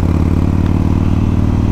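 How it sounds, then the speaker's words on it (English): A Yamaha bike's 19cc engine runs loud and close, a steady deep throbbing rumble with a fast even pulse and no voices. "the 19cc bike, the 19cc Yamaha engine is an awesome motor,"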